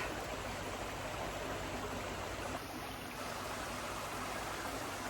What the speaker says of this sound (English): I am sitting in the creek right now